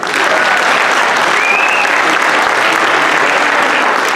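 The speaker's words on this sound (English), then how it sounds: "Give it up for Rookin." Steady, dense applause fills the room at a high school pageant after a contestant is introduced, loud and unbroken from start to finish.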